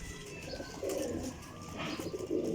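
Pigeons cooing softly in a loft of championship flying pigeons in fresh new plumage, several low throaty coos rising and falling across a steady outdoor background hum, with faint chirps and no talking.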